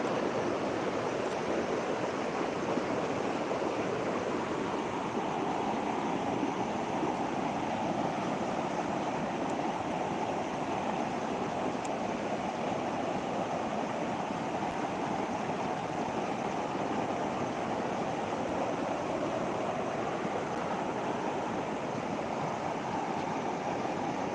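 Floodwater after rain rushes in a steady, broad roar that stays even and continuous throughout, dense and unbroken with no voices over it.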